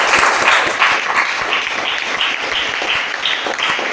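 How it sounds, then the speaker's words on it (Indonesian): An audience of students bursts into steady applause for work presented at the front of the class, a dense, sustained clapping heard up close. "Tepuk tangan dulu untuk tugas yang di depan"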